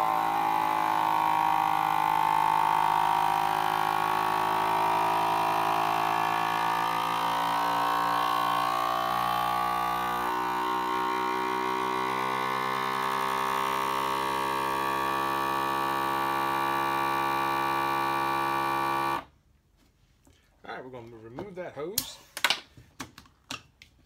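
Vacuum sealer with hose attached to a jar canister lid, pumping air from a 2-quart jar of dehydrated rice; a steady droning motor hum runs for about nineteen seconds, then cuts off abruptly, followed by faint clicks and handling noises.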